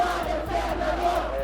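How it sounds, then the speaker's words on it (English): A large crowd chanting in the streets of Ukraine, a dense roar of many voices with a steady rhythmic rise and fall, loud and close, with no single speaker standing out. "Crowds chanting, "The people are the power," fill the streets of Ukraine."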